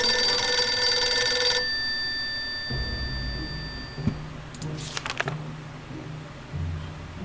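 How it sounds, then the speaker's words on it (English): A telephone rings in the game 60 Seconds!, a loud electronic ring for about a second and a half that stops abruptly, then low rumbling and brief sharp clatters follow. "It's just way too dangerous to just randomly run to a ringing phone in the middle of a radioactive ghost town."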